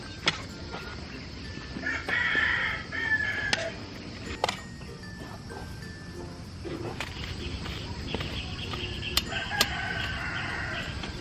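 A rooster crows a couple of times amid clucking chickens in an outdoor yard, with steady background noise and occasional clatter.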